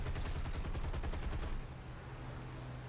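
Rapid machine gun fire from an American fighter plane's guns in War Thunder strafing a heavy tank, a loud, fast rattling burst for about a second and a half, then cutting off to engine drone.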